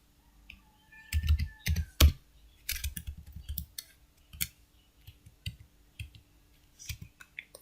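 Close keys on a computer keyboard clack in irregular bursts of typing, with a few sharper, louder presses like the enter key standing out, then sparser single taps.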